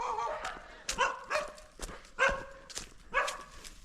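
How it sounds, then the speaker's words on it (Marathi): Several dogs bark in irregular bursts at moderate distance along a village path among bamboo groves near Nanded, sharp barks repeating about every half second with short gaps. "पुन्हा आमच्या दत्तूच्या मागे कुत्रे लागलेत"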